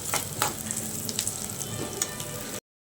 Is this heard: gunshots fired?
no